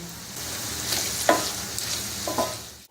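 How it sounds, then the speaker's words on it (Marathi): Ground coriander, cumin, black pepper and red chilli powder being stirred into grated raw mango for a methamba pickle, a soft scraping stir with a few louder scrapes against the bowl, steady and close, with no talking. "या सर्व वस्तू आपण मिक्स करून घेऊ."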